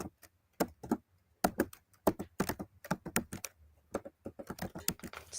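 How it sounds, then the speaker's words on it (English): Someone types on a computer keyboard in quick irregular bursts of crisp key clicks, close and clear, with brief pauses between runs of keystrokes. "Somebody's typing away."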